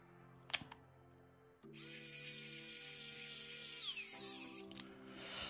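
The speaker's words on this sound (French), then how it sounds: "les petits tournevis électriques pour vos 1/18e" A small electric screwdriver drives screws into the beadlock wheels of a 1/18 scale Traxxas TRX-4M rock crawler, giving a steady whirring motor whine that shifts pitch as the screw tightens, after a couple of light clicks.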